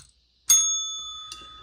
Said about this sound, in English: let me go ahead and get my bell